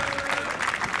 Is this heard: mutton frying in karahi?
no